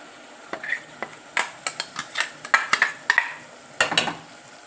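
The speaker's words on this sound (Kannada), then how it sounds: "ಈಗ ರುಬ್ಬಿಟ್ಕೊಂಡಿರೋಂಥ ಮಸಾಲೆನ ಇದರಲ್ಲಿ ಮಿಕ್ಸ್ ಮಾಡೋಣ" Ground masala being stirred into a frying mixture in a metal pan, a series of sharp spoon scrapes and clinks in uneven rhythm over a faint sizzle, close by.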